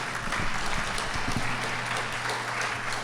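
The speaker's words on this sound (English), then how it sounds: "Round of applause, please." An audience at a city State of the City address breaks into steady applause, a dense, even wash of many hands clapping at moderate loudness, with a low hum running underneath.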